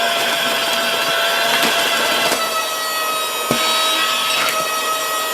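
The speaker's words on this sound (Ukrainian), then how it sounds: "як пилосос він працює досить непогано. Кнопочка вмикає." A cheap USB-rechargeable mini vacuum cleaner runs steadily after being switched on, a continuous whirring hum with a few brief clicks and knocks, heard close and alone without talk.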